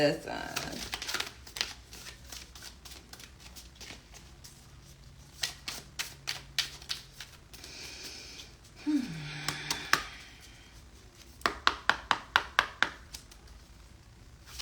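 Tarot cards are shuffled in quick riffling bursts, close and crisp, with rapid flicking runs and soft rustles between them, and a voice speaks faintly underneath.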